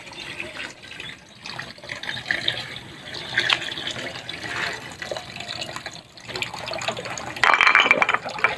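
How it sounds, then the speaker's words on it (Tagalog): Mountain spring water from a hillside source pours into a storage tank in rural Mindoro, a continuous splashing, trickling flow that swells louder near the end. "Lakas ng bukal."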